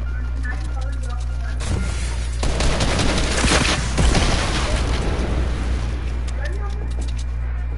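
A video game minigun roars in a sustained, dense rattle of rapid fire that swells and fades over several seconds beneath a steady low hum.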